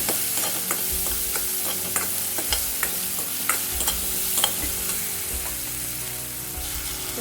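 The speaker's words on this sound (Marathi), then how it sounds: "हळद घालूया थोडी, कांदा घालायचा ह्याच्यात आपल्याला" Chopped onion and turmeric frying in a pan for a Malabar spinach dal, with a loud continuous sizzle and frequent sharp stirring scrapes and taps close by.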